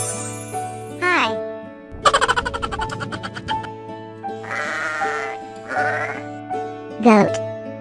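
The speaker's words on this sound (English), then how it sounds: "G-O-A-T, goat." A farm goat bleats in a quavering, wavering call, repeated a few times at close range, with a child-like voice and a soft jingle around it.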